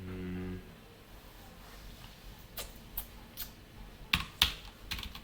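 Computer keyboard keys clicking while HTML and CSS code is written in a coding lesson, scattered near keystrokes growing into a quicker burst toward the end, with no talk during the typing.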